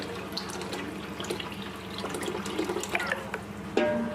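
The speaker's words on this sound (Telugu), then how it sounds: "వేగా చింతపండు పులుసు కూడా యాడ్ చేసేసుకోవాలి." Tamarind pulp water is poured into a large pot of Andhra fish curry made with mango and tomato, giving a close, continuous splashing and gurgling pour with a few louder splashes, and no talking.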